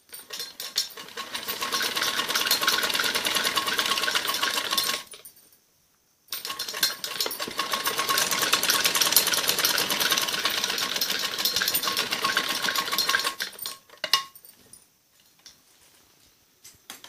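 Sewing machine stitching along the folded edge of a kameez sleeve, running loud and steady for about five seconds, pausing briefly, then running again for several seconds before stopping.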